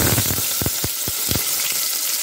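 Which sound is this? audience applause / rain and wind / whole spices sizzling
whole spices sizzling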